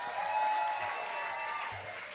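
An audience at a live music venue applauds a singer, making a steady, blended wash of clapping with faint crowd noise for about two seconds.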